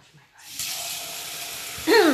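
Water from a kitchen tap runs into a sink to wash rice, starting abruptly with a steady hiss and getting louder and splashier near the end, close by and with no talk.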